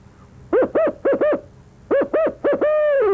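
An owl hooter call imitates a barred owl in the classic 'who cooks for you' rhythm, with two quick groups of four rising hoots followed by a drawn-out, descending final hoot, loud and close with no talking.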